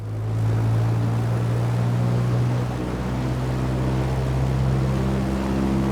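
Steady drone of a Piper Warrior's piston engine held at a 2,000 RPM run-up in Microsoft Flight Simulator, a loud continuous hum that eases slightly partway through and stays level throughout.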